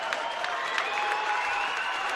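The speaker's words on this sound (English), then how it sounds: "Crowd getting loud." A crowd at a girls' high school basketball game roars and claps, a dense steady wall of cheering and applause lasting the whole moment.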